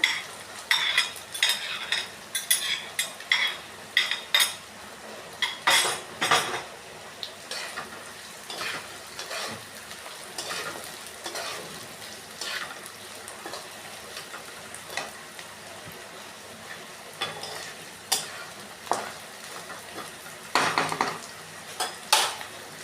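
Crispy jackfruit seeds with chopped onion cooking in a pan, heard as repeated metal scrapes and clinks of a utensil against the pan over a faint sizzle, steady and close with no speech.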